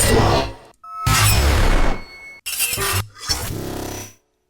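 A metal-blade category sound effect with an electric edge: four loud, sharp bursts, each ringing out with a bright metallic, buzzing tail before cutting off, separated by brief silences.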